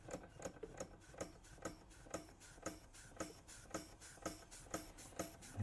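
A restored Weeden 34 model steam engine from about 1896 runs steadily, producing a faint, even chuffing tick that repeats roughly twice a second with a light mechanical clatter.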